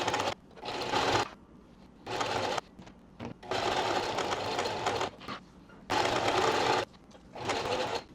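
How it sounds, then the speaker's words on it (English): Sewing machine stitching a linen drawstring closed from end to end, running in several bursts of steady mechanical whirring separated by short pauses, close and fairly loud with no talk. "And now we close it, and I'm just going to be sewing the whole way along."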